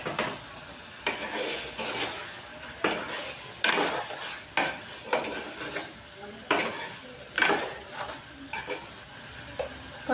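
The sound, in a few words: stirring chicken liver with turmeric and salt in pan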